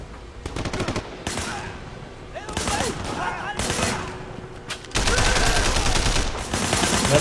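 Rapid automatic gunfire from the Sleeping Dogs video game, bursts of close, loud shots in repeated volleys that build to continuous heavy firing, with voices shouting in between.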